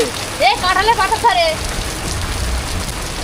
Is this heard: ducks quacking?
no